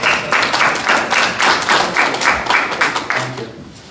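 Audience applause at a regular session of a city mayor and council meeting: a dense, steady wash of many hands clapping that carries on without pause for about four seconds, with no voices over it.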